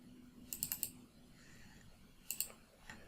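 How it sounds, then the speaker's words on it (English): Computer keyboard typed in two short bursts of crisp clicks, a quick run of four or five keystrokes, a pause, then a couple more, close and quiet with no talk. "type VB from the keyboard"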